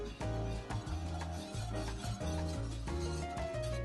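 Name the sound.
whisking butter and flour roux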